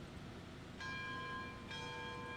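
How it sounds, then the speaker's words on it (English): A steam locomotive's bell in the Railroads Online train game rings twice, clear and fairly loud, with bright sustained tones over a low background rumble and no speech. "Do we want to hear the bell on this one? I'll go ahead and try it out."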